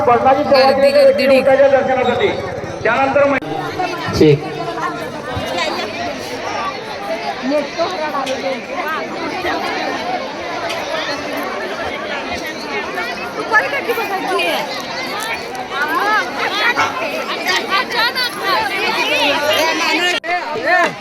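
Dense crowd chatter at a busy temple gathering drawn by visitors arriving from other villages, a steady babble of many voices with occasional nearer calls, continuous throughout.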